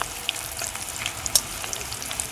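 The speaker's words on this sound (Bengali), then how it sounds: "পাঁচ ফোড়ন দিয়ে দিলাম গোটা রসুন দিয়ে দিলাম তারপরে একটু হিং দিয়ে দিলাম শুধু লঙ্কা দিয়ে দিলাম" Whole garlic cloves, five-spice seeds, asafoetida and dried chillies crackle in hot oil for a green mango pickle, a steady close sizzle dotted with sharp pops and spits, no voices.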